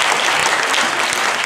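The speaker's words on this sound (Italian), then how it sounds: "Applausi." An audience at a queer film festival awards ceremony applauds, a steady, dense patter of many hands clapping, moderately loud and without speech over it.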